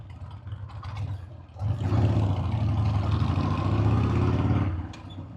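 A Harley-Davidson Sportster 1200 chopper rumbles while riding in city traffic, its engine note swelling to a loud, deep, steady drone for a few seconds before easing off.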